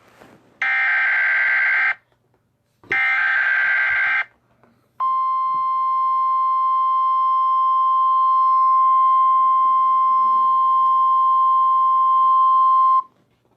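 Emergency Alert System attention signal: two bursts of harsh, loud buzzing data-like tones, each about a second long, followed by a steady, piercing sustained alert tone lasting roughly eight seconds, with no voice over it.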